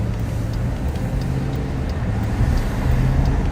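Heavy road vehicles, likely buses or trucks, rumble past on a city road, a steady low engine drone with traffic noise and no talking.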